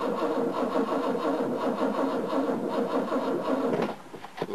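An old car engine cranks steadily with a rough mechanical churn for about four seconds, then drops off as the starter falters without a clear catch.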